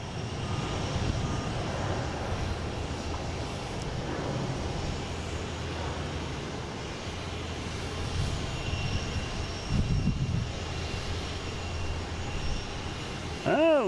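Airplane engine noise at Boston Logan International Airport, a steady broadband rumble holding throughout at moderate distance, with a brief louder swell near the end.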